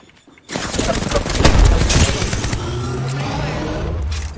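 Loud, sustained automatic gunfire in Apex Legends bursts in abruptly after a near-silent moment, swelling into a rapid rattling barrage that continues steadily to the end.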